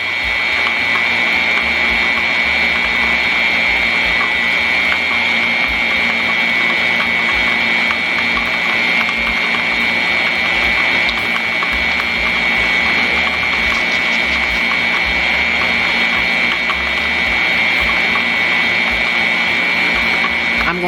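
An electric mixer beating pound cake batter gives a loud, steady motor whir with a high-pitched hum that holds unbroken for the whole stretch.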